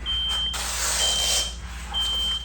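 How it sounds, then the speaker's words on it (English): A smoke alarm goes off indoors with a steady piercing high beep in repeated bursts alongside a loud hissing blast of noise. "we set off the smoke alarm, so that kind of freaked us out"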